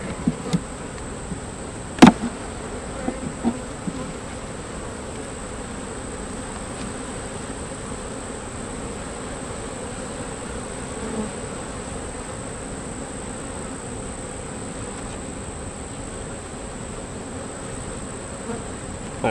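Honeybees swarm around an open hive during a beekeeping inspection, a constant close droning buzz that fills the scene, with a few faint clicks of hive tools early on.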